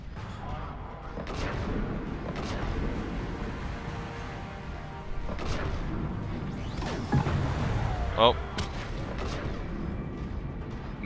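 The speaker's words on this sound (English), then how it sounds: "Missiles for everyone!" Missiles launch and explode in Mass Effect 3 as a run of booms and whooshing blasts with some sharper bursts, heard over low background rumble.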